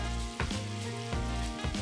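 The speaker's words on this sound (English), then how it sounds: "you can hear that nice sizzle" Onion and raspberry sauce for hot wings sizzles steadily in a pot on a small burner, a continuous close frying hiss with a few soft stirring bumps and no voices.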